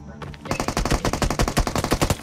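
Rapid automatic gunfire from the BGMI battle royale game, a loud sustained burst of evenly spaced shots after a brief quiet start, with no talk over it.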